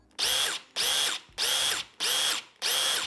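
A DeWalt impact driver run at full trigger, five loud high-pitched whirring bursts of about half a second each with brief gaps between them, close up with no talk.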